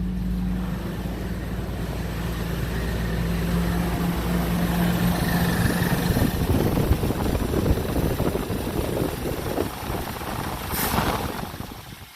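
A Toyota Land Cruiser engine idles steadily at close range, a low rumbling hum with a faint whine, running alone without any talk.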